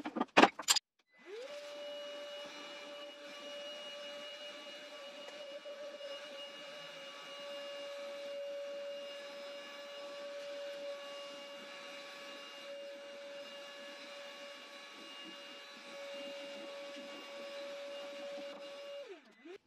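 A Carrefour cordless wet and dry vacuum cleaner switches on after a couple of clicks and runs for a long stretch with a steady high whine, then spins down at the end; no talking.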